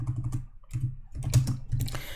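Code being typed on a computer keyboard, close bursts of rapid key clicks separated by short pauses, with no talk.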